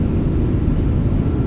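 A320 thrust reversers roar during a landing rollout in a flight simulator, producing a loud, dense, steady low rumble of engine noise with no voices over it.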